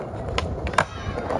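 A skateboard doing a flip trick and landing on dusty dirt at a skatepark: gritty rolling noise with a few sharp board clacks, the loudest impact midway, close and fairly loud.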